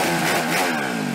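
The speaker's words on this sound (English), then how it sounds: "You're gonna go around popping your bike off the rev limiter and start a fire like this guy?" Dirt bike engine, a Honda CRF150R, held at high revs against the rev limiter, a loud, steady buzzing drone throughout with no voices.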